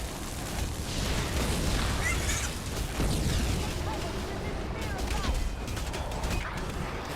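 Bomb-throwing enemies in The Lord of the Rings: War in the North set off a near-continuous barrage of booming blasts and rumbling explosions, loud and dense throughout, mixed with clashing battle noise.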